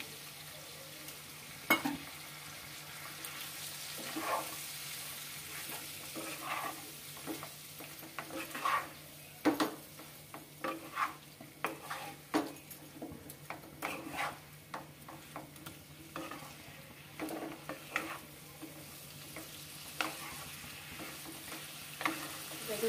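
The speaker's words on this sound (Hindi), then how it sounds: "एबे आम मसला को सब पकेइदेबा।" Jackfruit curry masala sizzles and fries in a pan while being stirred, with irregular scraping strokes and crackling bursts close by, with no voices.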